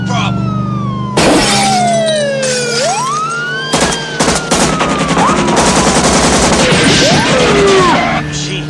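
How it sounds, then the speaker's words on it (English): Rapid machine gun bursts in a film action scene, loud crackling volleys mixed with wailing sirens, screeching vehicles and shattering impacts, dense and chaotic with voices shouting among the noise. "Machine guns."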